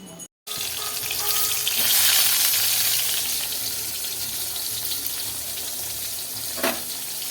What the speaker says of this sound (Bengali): কড়াইতে তেল গরম বসিয়ে দিয়েছি এখানে সব ভাজাগুলো একে একে আমি ভেজে